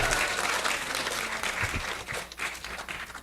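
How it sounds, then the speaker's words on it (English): An audience at a devotional festival gathering claps for a spiritual teacher, a fairly faint, diffuse wash of applause throughout with no clear talk over it. "Let's all give a big round of applause to Maharaj."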